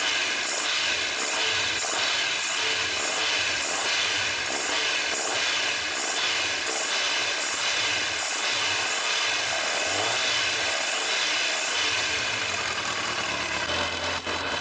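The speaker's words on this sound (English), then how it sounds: "I have to wait for the bike to warm up." A Kawasaki ZZR1100 motorcycle engine idles while warming up during a restoration after a new fuel pump was fitted. It makes a constant, loud, even drone with a soft rhythmic low throb, with no voices.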